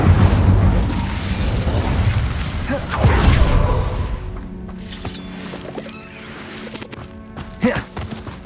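An Incendio fire spell in the game Hogwarts Legacy bursts with a loud, rumbling boom and whooshing roar, then trails off into quieter crackles and softer thuds, with one sharper hit near the end.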